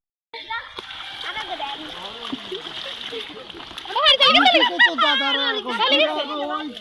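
Water splashes continuously in waist-deep flood water where people are catching fish, growing louder and more churning midway as excited voices, including children's, shout over it.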